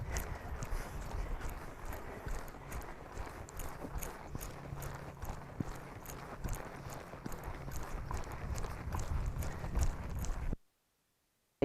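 A horse walks in steady clip-clop rhythm on the ground during groundwork training, hoofbeats close and even throughout before stopping abruptly.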